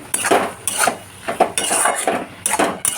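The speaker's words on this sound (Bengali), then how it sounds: "ডিমটাও দিয়ে দিলাম দিয়ে আবার একটু নাড়াচাড়া করে" A utensil stirs egg into vegetable Maggi noodles in a pan, making loud, close metallic scrapes and clinks in quick irregular strokes.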